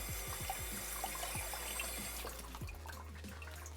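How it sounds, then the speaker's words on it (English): Water running from a tap into an empty Prego pasta sauce jar in a kitchen, a steady close rushing pour with gurgling that rises in pitch as the jar fills. "I'll add some more water in here."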